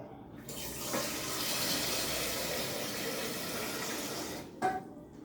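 Water pours steadily into a cooking pot (sufuria) for about four seconds in a continuous, hissing splash, stopping with a brief final splash, with no talking.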